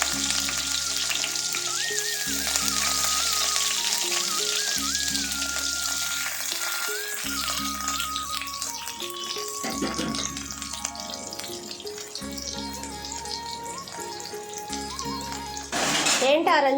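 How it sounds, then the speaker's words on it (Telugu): Onion pieces fry in hot oil with a continuous bright sizzling hiss, set under looping background music with a melody and a steady bass pattern. "నూనె వేడైన తర్వాత ఉల్లిపాయ ముక్కలు వేసుకోవాలి."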